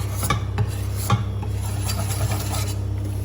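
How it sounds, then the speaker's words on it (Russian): A whisk rasps and scrapes rhythmically through a flour mixture in a pot for cake custard cream, close and fairly quiet, with repeated rubbing strokes against the metal sides. "И вот так тщательно очень перемешиваем."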